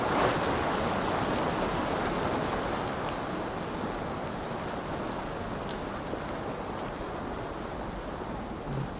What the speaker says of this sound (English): The waterfall that I see right in front of me.